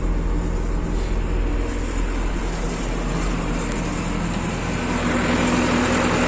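A John Deere 1052 combine harvester's engine idles at a steady, even low rumble, close and constant throughout with no talk.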